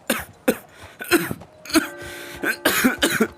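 A string of harsh, repeated coughs and throat-clearing bursts from a man ill with tuberculosis, close and loud, coming in uneven fits over a few seconds.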